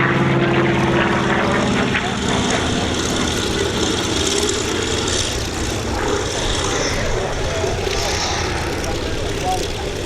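Grumman F8F Bearcat piston fighter performing rolls at the Sywell Airshow 2024, a loud continuous propeller-engine roar with a slowly shifting pitch as it passes, steady throughout.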